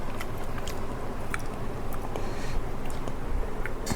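Someone eats rice with home-cooked beef curry, chewing close to the microphone with soft, wet mouth sounds that repeat steadily under a constant background hiss.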